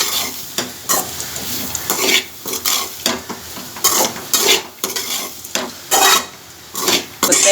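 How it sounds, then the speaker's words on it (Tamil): Grated coconut and raw jackfruit sauté in a pan, with repeated scraping stir strokes in an uneven rhythm over a steady low sizzle, close by. "இப்போ தேங்காவை போட்டு இப்போ 1 நிமிஷம் வதக்கியாச்சு"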